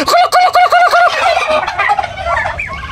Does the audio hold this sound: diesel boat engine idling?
no